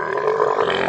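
A camel's deep guttural grunt, one loud sustained throaty groan heard close and alone.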